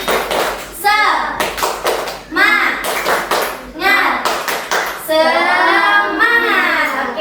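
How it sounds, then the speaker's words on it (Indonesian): An elementary classroom performs a rhythmic spirit clap led by the teacher, sharp bursts of hand claps and taps in set patterns alternating with children chanting, loud and close in a small room. "Ibu pimpin tepuk semangat."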